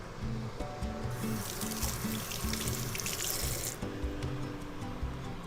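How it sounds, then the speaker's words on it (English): Running tap water splashes into a kitchen sink while something is rinsed under it, a steady close gush that briefly brightens and thickens mid-way, then settles back to a softer flow. "I should probably rinse this off with some water, actually."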